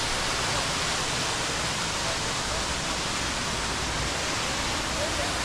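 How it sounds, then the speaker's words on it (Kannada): A waterfall near the rock garden walking point in Darjeeling gives a steady, dense roar of rushing water that fills the whole scene evenly without pause. "ಇಲ್ಲಿಂದ ಫಾಲ್ಸ್ ಕಾಣಿಸ್ತಿದೆ ಇದು ಫಾಲ್ಸಿಗೆ ಭಾಳ ಹತ್ತಿರವಾದ ವಾಕಿಂಗ್ ಪಾಯಿಂಟ್ ಅಂತಲೇ ಹೇಳ್ಬೋದು"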